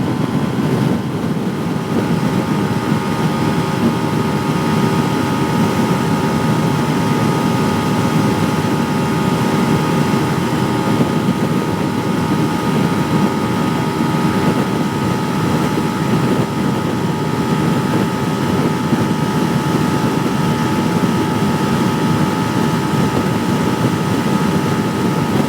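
A Benelli TNT 150i motorcycle on a test ride gives off a steady, continuous engine drone with a faint whining tone, mixed with rushing wind noise at an even level and no speech.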